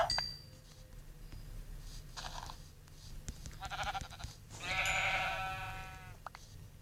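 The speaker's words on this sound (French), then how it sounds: "Alors là, c'est le monde des moutons." Sheep in Minecraft Pocket Edition bleat in a world full of sheep: several short, wavering bleats rise from quiet game ambience, ending in one long, loud, clear bleat near the end.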